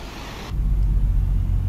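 Hino RM Cititrans bus engine surging as the bus accelerates, a loud, steady low rumble that swells up after a brief quieter lead-in and holds close and strong.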